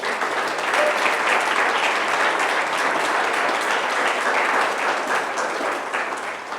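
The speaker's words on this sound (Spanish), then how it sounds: "Dale otro fuerte aplauso a Dios." Steady, loud applause from a church congregation fills the space, a dense continuous wash of many hands clapping at once without pause.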